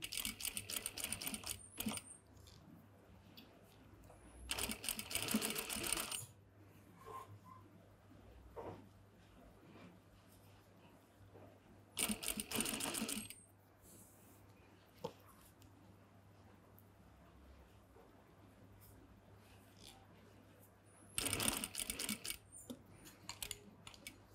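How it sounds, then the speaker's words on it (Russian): Domestic sewing machine stitching a hem seam through uneven batiste fabric, heard in three short, loud bursts of rapid running stitches separated by quiet pauses with faint handling noise. "Вы шьете неровную ткань."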